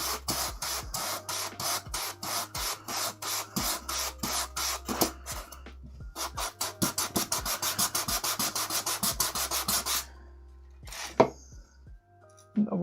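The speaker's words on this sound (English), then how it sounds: "Sanding, yeah." Piece of a tabletop terrain model being sanded by hand, loud rapid rasping strokes in fast rhythmic bursts, pausing briefly midway and ending with a few scattered scrapes.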